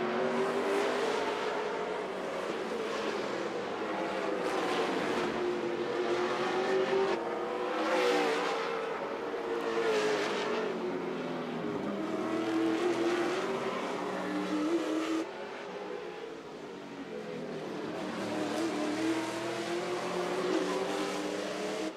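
Race car engines roar continuously on a track, pitch rising and falling as cars rev and pass, loud and sustained with faint tire squeal amid the racing din.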